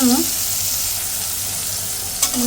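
Shrimp fry in hot oil with a continuous, close, hissing sizzle and a faint tonal hum at the start and end, with no voices.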